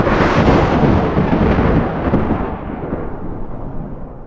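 Loud, dense roar of a cartoon sea storm with thunder-like rumbles and crashing water, strongest at the start and easing slightly over several seconds, with no voices.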